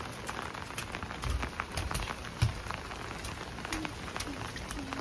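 Monsoon rain falling and pattering steadily on surfaces, with scattered drip impacts and a child splashing in the water, soft and continuous with faint voices in the background.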